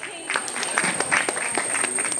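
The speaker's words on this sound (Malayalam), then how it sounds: "എല്ലാവരും നല്ലൊരു കയ്യടി കൊടുത്തേ." Guests clap to welcome the bride onto the stage at a maduraveppu pre-wedding celebration. The scattered claps are moderately loud, with a voice speaking and a steady high tone in the background.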